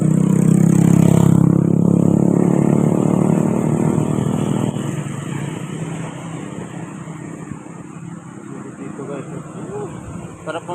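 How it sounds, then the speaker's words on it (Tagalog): Motorcycle engine being broken in on a ride in Infanta, Quezon, a steady mid-pitched running drone, loudest at the start and settling lower, with voices talking over it. "Eh kami nag-break in lang kami ng motor."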